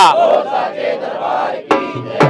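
A crowd at a Khwaja Pir procession shouts a devotional jaikara in unison, a loud rousing chorus of many voices that breaks off, followed by a couple of sharp bursts of renewed shouting.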